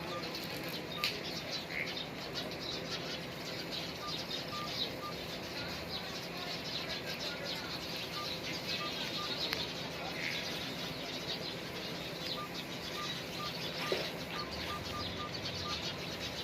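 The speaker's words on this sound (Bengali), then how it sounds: "সন্ধ্যা হচ্ছে আর এই যে পাখির কিচির মিচির বেড়েই চলছে" Busy chorus of small birds chirping and twittering continuously at dusk as they roost among tree leaves, a dense layer of overlapping calls with occasional wing flutters, steady and moderately distant.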